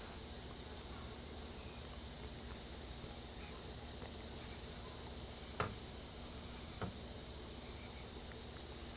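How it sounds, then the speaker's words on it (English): Crickets chirp loudly and constantly in a rural yard at night, a dense, steady high trill with no pauses. There are a couple of faint clicks and no speech. "Definitely the crickets are loud out here tonight."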